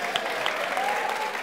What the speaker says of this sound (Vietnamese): Vỗ tay.